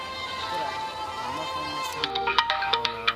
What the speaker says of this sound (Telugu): ఫోన్ వచ్చింది. ఫోన్ వస్తుంది కదా.